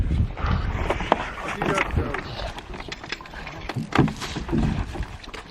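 Canoes paddled on the Shakwa River, with splashy paddle strokes and water sloshing close by while people talk over them.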